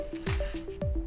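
Maserati electronic park brake switch pulled up inside the cabin, giving two quick, close plastic clicks with soft thumps, separated by about half a second.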